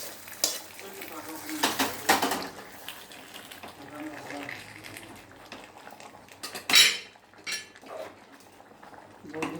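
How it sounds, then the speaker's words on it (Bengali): Ginger, garlic and black cumin sizzle in hot oil as a tempering for jute-leaf dal, with a soft frying hiss broken by sharp clanks of a spoon against the pot while someone talks. "এখন আমি আদা, রসুন, কালো জিরা"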